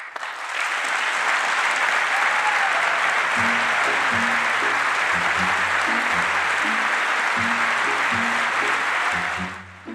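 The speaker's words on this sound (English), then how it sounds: "In a deeply divided Congress, applause or silence can send a powerful message." Sustained applause fills a chamber of the deeply divided Congress during the State of the Union address, loud and steady from start to finish, with a low voice murmuring faintly underneath.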